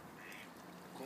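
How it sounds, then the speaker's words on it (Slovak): Ducks quacking faintly at a distance, a few brief calls over low background noise, with a voice murmuring softly. "Ale však to sú všetko kačery toto."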